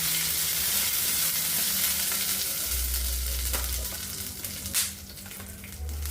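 Cumin seeds and whole spices with cloves sizzle in hot oil in a pan for mushroom masala, a steady close frying hiss with a few louder crackles and stirring scrapes.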